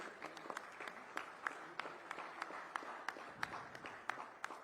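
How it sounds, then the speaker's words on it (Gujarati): Applause from an award-ceremony audience at a Good Governance Day event with the Chief Minister, heard as a soft, steady patter of clapping with sharper individual claps popping out, fairly distant and low in level. "ખૂબ ખૂબ તાળીઓ સાથે આપણે સતત"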